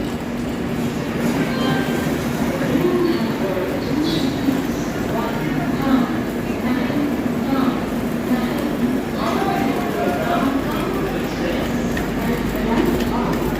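A passenger train stands at a station platform, ready to depart, with a loud steady rumble and faint rail clatter throughout while people talk nearby.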